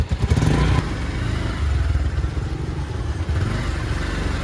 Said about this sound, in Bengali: তবে এখন আমরা বাইক নিয়ে যাব।